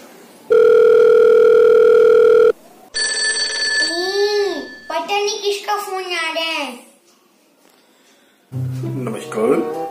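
A steady telephone dial tone hums for about two seconds, then a voice talks over ringing tones, followed by more talking near the end.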